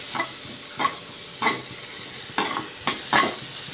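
Onions frying in butter over a high flame for smoked garlic onion pumpkin soup, stirred constantly, with about six distinct scraping stir strokes over a steady close sizzle and no voices.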